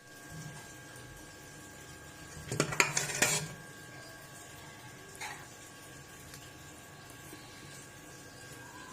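Utensils clatter against a pot while makhani maash dal is served out, with a short burst of scraping and clinking in the middle, a fainter clink later, and otherwise quiet kitchen ambience without talk.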